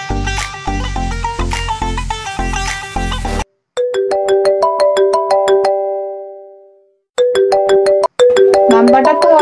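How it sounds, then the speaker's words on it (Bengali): A mobile phone ringtone plays loud and clear, a bright repeating melodic chime pattern that cuts off briefly, fades, then starts again. "কে ফোন দিল?"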